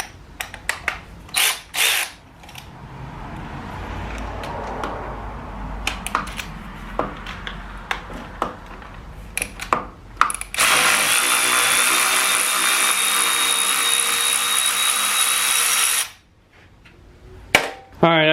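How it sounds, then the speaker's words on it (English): A power tool backs 7/16-inch bolts out of the overdrive extension housing on a 47RE transmission. Scattered clanks and ratcheting come first, then a loud, steady buzzing whir runs for several seconds before a few last clicks. "to get the overdrive extension housing off, you got 7/16 headed bolts to take out"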